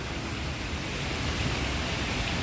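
Cascading water feature in a residential building lobby, heard as a steady broadband rush of falling water, even and continuous, with no voices over it.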